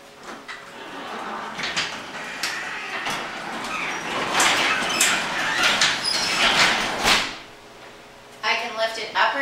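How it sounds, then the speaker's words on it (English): A heavy garage door released from its electric opener is lifted by hand, giving a long run of rattling, scraping and squeaking panel noise that swells and fades, with a pause before a last clatter. "I can lift it up or down now that the cord has been released."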